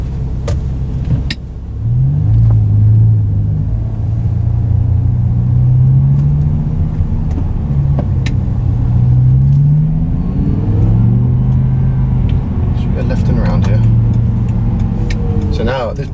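The V10 engine of a BMW M6 pulls hard from low revs, a loud deep rumble rising and falling through two surges of acceleration during a drive around town, heard from inside the car.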